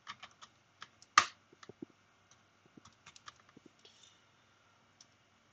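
Quiet, irregular key clicks come from a laptop keyboard as a Linux terminal command is typed, with one sharper keystroke near the start and no voices.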